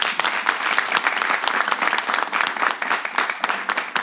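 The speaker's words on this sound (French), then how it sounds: "Applaudissements pour vous." A studio audience at a live televised show final gives loud, dense, continuous applause, many hands clapping together at full strength throughout with no talk.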